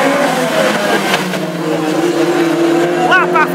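Classic hot rod race cars roaring past on the Aldershot oval during the Summer Sizzler final, a loud layered engine drone rising and falling as they pass side by side, under a commentator's voice.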